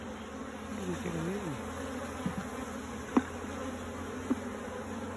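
Honey bees buzz steadily at an opened hive during a queen cage check, a close, continuous hum with wavering pitch, broken by a couple of soft clicks and knocks.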